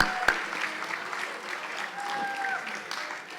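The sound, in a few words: audience applause cheering class officers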